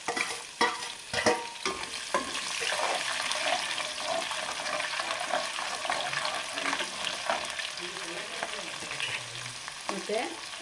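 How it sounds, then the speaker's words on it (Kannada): Crushed garlic frying in hot oil with mustard seeds and lentils for Andhra-style gongura pachadi, a steady close sizzle with scattered pops and crackles and a few sharp stirring clatters near the start. "ಇದೆಲ್ಲ ಸ್ವಲ್ಪ ಫ್ರೈ ಆಗಬೇಕು, ಸಾಸಿವೆ ಸಿಡಿಬೇಕು"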